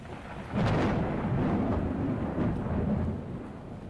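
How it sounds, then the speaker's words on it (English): A thunderstorm rumbles in the video game Gone Home, a loud, sustained roll of thunder with rain swelling in after a quiet start and then holding steady, with no voices. "that freaking storm is loud as hell"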